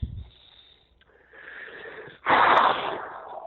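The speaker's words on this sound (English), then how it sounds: "That's a heavy breath." A long, loud, airy exhale close to the microphone, rising in force then trailing off, after a brief quieter breath.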